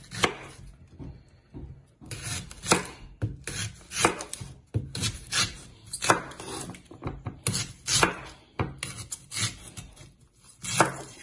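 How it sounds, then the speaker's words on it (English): A sharp knife peels a yam for fish yam porridge with rhythmic rasping scrapes, stroke after stroke with brief pauses between them, close and clear. "Step two is to peel the yam."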